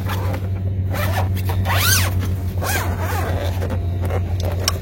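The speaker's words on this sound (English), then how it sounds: "It zips open pretty easily." A zipper on a Jeep bag drawn open in several quick, rasping pulls, close and clear over a steady low hum.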